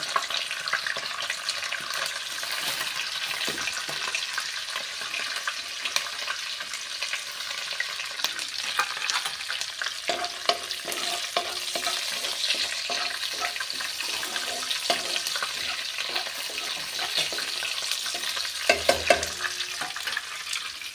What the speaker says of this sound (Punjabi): ਥੋੜਾ ਜਿਹਾ ਆਪਾਂ ਵਿੱਚ ਲਸਣ ਐਡ ਕਰ ਰਹੇ ਹਾਂ ਥੋੜੀ ਜਿਹੀ ਪਾ ਰਹੇ ਹਾਂ ਜੀ ਰਾਈ